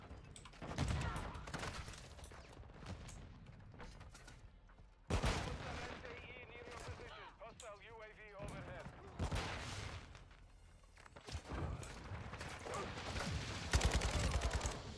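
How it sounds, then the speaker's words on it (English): Video game gunfire aimed at a wall, with repeated bursts of shots and loud broadband blasts coming in clusters, mixed with a talking streamer and game sounds. "Start shooting the wall."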